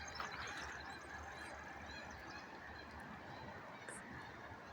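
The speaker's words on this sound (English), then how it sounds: "I think it's a goose just screaming over there." A goose honks somewhere near a river, a faint, distant call buried in steady broadband wind or water noise that runs unbroken throughout.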